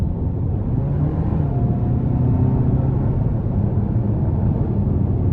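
A 2024 Hyundai Santa Fe Limited with the 2.5-liter turbo engine pulling hard under acceleration, a loud steady low drone with road rumble heard from inside the cabin.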